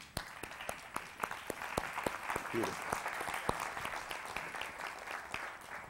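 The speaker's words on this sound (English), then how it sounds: "Y'all give him a hand clap." A church congregation clapping along in a steady rhythmic beat, moderately close, with a voice speaking over the claps.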